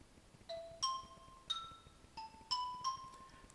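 One-bar syncopated phrase played back in Sibelius notation software, a handful of clean bell-like tones in an uneven, off-beat rhythm, quiet and alone against a faint noise floor.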